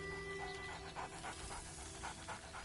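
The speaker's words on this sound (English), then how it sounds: "Scratch barks merrily in something like agreement." A dog in the video game Baldur's Gate III pants in quick rhythmic breaths, close and fairly soft, over a faint steady background hum.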